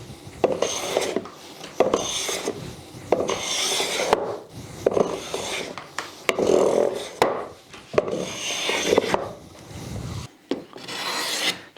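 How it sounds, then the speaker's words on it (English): A hand tool rasps along the edges of cherry wood legs in steady, repeated strokes, each a close, gritty scrape separated by short pauses, with no talking. "Just going to put a quick little chamfer on the legs here."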